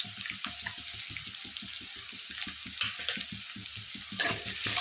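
Green chillies, garlic and onion roast in a pan with salt, a constant close sizzle over a rapid, regular ticking pulse, with a brief louder scrape near the end and no voices.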